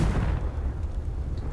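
Confringo explosive spell in Hogwarts Legacy bursting with a deep low boom that decays over a second and a half, close and alone.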